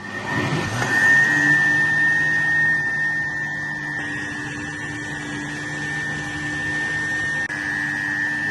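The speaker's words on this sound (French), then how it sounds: "Nous allons bien écraser et bien curer notre soupe." A blender runs steadily, pureeing a coconut milk soup with a continuous loud motor whine and hum that holds for the whole stretch. No one speaks.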